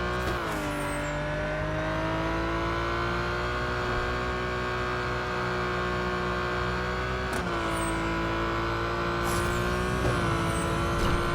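A Porsche 911 GT3 RS accelerates hard in the racing game Need For Speed No Limits, its engine a loud, steady, rising whine that runs the whole way, with brief dips as it shifts gears.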